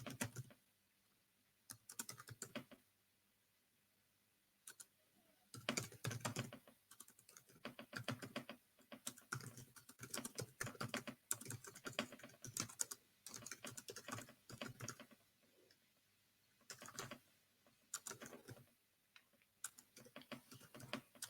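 Bursts of rapid keystrokes on a computer keyboard, close and clear, coming in irregular runs separated by short quiet pauses, with no voices over them.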